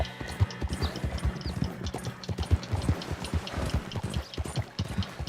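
Horse hooves trotting in the video game Red Dead Redemption 2, a busy continuous clip-clop rhythm, close and fairly loud, with background game ambience.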